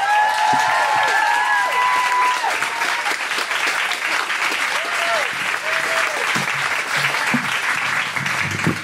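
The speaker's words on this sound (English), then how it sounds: "Thanks for clapping because that's a long walk." Comedy show audience on the Gold Coast applauding a comic walking to the stand-up mic, loud sustained clapping and crowd noise with whoops and a few voices mixed in throughout.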